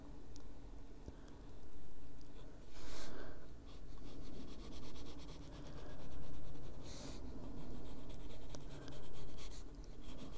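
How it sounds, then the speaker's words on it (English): Pencil strokes on paper in an adult colouring book, a steady scratchy rubbing that runs through the whole stretch in repeated swells, close and fairly loud, with no talk. "We're just going to draw that line so I know where it is."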